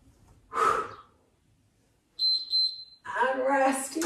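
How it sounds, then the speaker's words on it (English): Forceful breathy exhales during a yoga HIIT leg workout, with a loud burst near the start and another rush of breath toward the end, separated by a quiet gap and a brief steady beep. "Nice noisy exhales."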